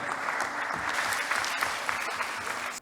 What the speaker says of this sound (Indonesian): Tepuk tangan untuk para wisudawan